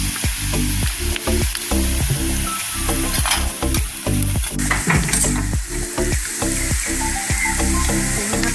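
Jackfruit seeds frying with turmeric powder in a pan give a steady, close sizzle, with repeated stirring scrapes and clatter running through the whole stretch.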